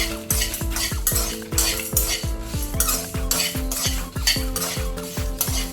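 Dried red chilies, coriander seeds, cumin and chana dal fry in a pan while a metal spoon scrapes and stirs in a quick regular rhythm, each stroke ringing against the pan over a soft sizzle.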